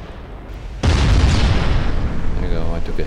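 A shell strikes a warship's main tower in Ultimate Admiral Dreadnoughts: a sudden loud, booming impact that rumbles and crackles for over two seconds, with a voice speaking faintly near the end.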